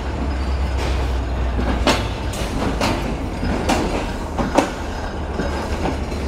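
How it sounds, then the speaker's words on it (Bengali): Kapotaksha Express, an intercity broad-gauge train, pulls out of Khulna station bound for Rajshahi, with steady rolling rumble and rhythmic wheel clatter over rail joints, a few sharp clacks standing out, no voices. "নির্ধারিত সময়ে আমাদের ট্রেন আন্তনগর কপোতাক্ষ এক্সপ্রেস যাত্রা শুরু করলো তার গন্তব্য রাজশাহীর উদ্দেশ্যে।"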